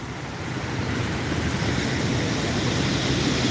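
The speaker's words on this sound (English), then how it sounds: "You can tell by the sound of that sea it's changing slightly." Sea waves break on a beach at high tide, heard as a loud, continuous rushing roar with wind buffeting the microphone and no voices.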